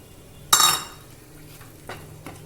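A spoon stirs dal in a cooking pot while sambar is being made, opening with a sharp metallic clink followed by a brief scraping swirl and a couple of softer taps close by, with no talking.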